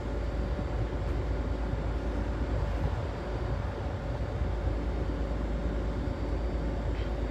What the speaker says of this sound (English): Azuma coming in first into platform 3.